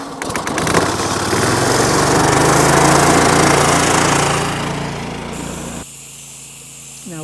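A gas-powered pressure washer roars close and loud after a quick pull-start, holding a steady engine drone with a high pressure hose laid around a house, then cutting off abruptly near the end.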